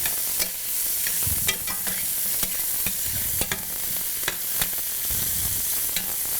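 Mushrooms frying in a pan for pasta with sun-dried tomatoes in cream sauce, stirred with repeated scraping strokes over a steady close sizzle, no voices.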